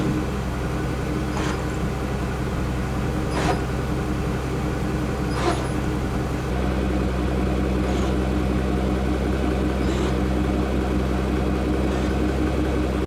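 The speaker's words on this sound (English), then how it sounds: "if you press the wings button, the car will do a wing check to make sure that they are operating properly" Active rear aero wings on a Pagani Huayra cycling through a wing check, a series of short mechanical whirs and clicks recurring every second or two over a steady engine idle and low cabin hum.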